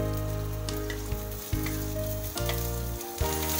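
Onion, garlic and ginger frying in oil in a pan, a steady close sizzle with a few soft knocks as pieces drop in and are stirred, no talking.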